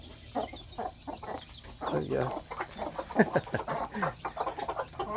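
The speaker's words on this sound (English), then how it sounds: "What are the chickies doing?" Baby chickens clucking and peeping in a rapid, irregular chatter close by, with a person briefly speaking over them.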